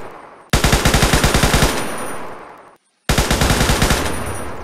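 A machine gun in the Unturned video game fires two loud, rapid bursts separated by a short pause. The shots are close, dense and evenly paced, with a booming low end.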